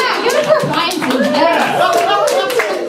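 A comedy club crowd claps and cheers, with scattered handclaps and voices of audience members mixed in throughout.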